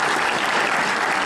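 Dense, sustained applause from a convention panel audience at PAX East 2014, a thick, continuous roar of many hands clapping at close range.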